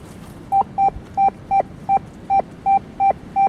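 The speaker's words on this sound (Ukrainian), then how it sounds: "піймав непоганий сигнал, дам послухати" A Rutus Atrex metal detector gives its signal tone while searching along a roadside and forest: nine short, loud, identical beeps in a steady, even rhythm, each with a brief pause between them.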